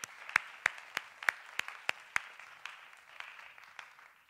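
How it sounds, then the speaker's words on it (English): Sparse applause from a competition audience: a run of sharp, distinct claps, roughly one every third of a second, tapering off into softer, scattered clapping, heard alone without any voices. "Applause, please"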